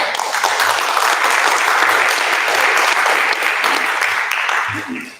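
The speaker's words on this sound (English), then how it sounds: "Let's give our honoree a warm applause." An audience at a service claps warmly for an honoree, a dense, loud, sustained wash of applause that fades out near the end.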